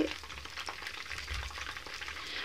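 A constant hissing sizzle of chicken lollipops frying golden brown in oil, with light scraping and turning sounds close by; no voices.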